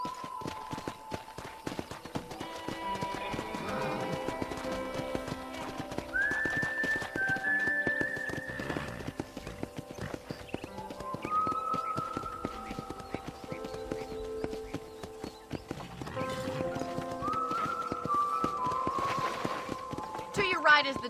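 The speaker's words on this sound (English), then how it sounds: "let's see if you can still ride a horse" Hooves clip-clop in a steady running rhythm as a horse moves across open ground in the Red Dead Redemption video game, with people talking and occasional music tones layered over the hoofbeats.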